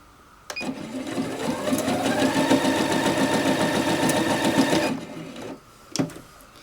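A sewing machine with its basic standard presser foot stitches thin fabric in a steady, fast mechanical rhythm for about four seconds, close and loud, then stops, followed by a brief thump.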